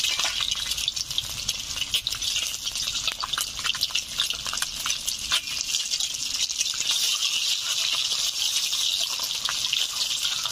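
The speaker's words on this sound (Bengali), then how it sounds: "তেল গরম হয়ে গেছে, ডিমগুলো দিয়ে দিচ্ছি।" Eggs frying in hot oil in a pan, a steady bright crackling sizzle that holds at an even, fairly loud level throughout with no talking.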